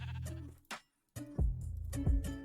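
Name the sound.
sheep bleating in the video game Minecraft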